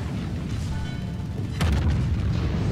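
Naval guns of a warship in World of Warships boom in a deep, heavy blast partway through, over a steady low rumble of game ambience.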